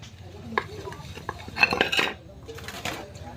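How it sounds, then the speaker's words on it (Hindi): Dishes, pots and steel utensils being washed by hand: scattered metallic clinks and clatters with scraping, loudest midway, in an irregular rhythm close by. "मैं मेरा बर्तन मांज ली हूँ, बस 2-3 ठो और खड़े रह गया मारने के लिए"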